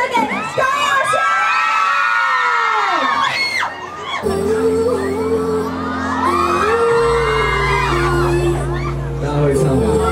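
A live audience at an outdoor Levi's music event on a Taipei plaza screams, whoops and cheers continuously, loud and near, with high shrill yells and crowd roar rising and falling throughout.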